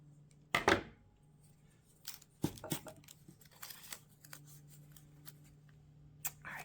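Scissors snip through a piece of fabric or paper while decorating a vintage sewing pattern journal cover, a few close, crisp cuts and rustles spaced out over a quiet steady hum.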